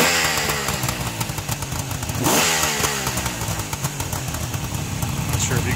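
A 1973 Suzuki GT550 two-stroke triple idles steadily up close, its engine churning in a continuous, even burble with light mechanical clatter and no voices.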